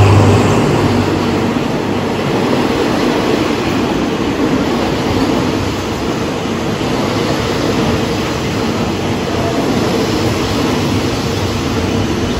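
Passenger train 142 from Ubon Ratchathani to Bangkok sits at Nakhon Ratchasima station, giving a constant loud rumbling roar of engine and rail noise that holds steady and unbroken throughout.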